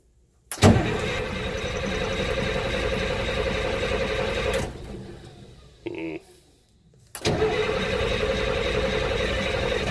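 An M35A2 military truck's newly installed engine is started for the first time. It catches and runs with a loud, rough mid-pitched roar, falls away into a brief sputter and near silence, then starts again and keeps running strongly.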